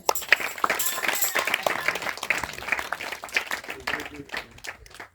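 A church congregation claps and cheers in acclaim of Jesus during a worship service, a dense, steady wash of applause with scattered voices that thins out toward the end.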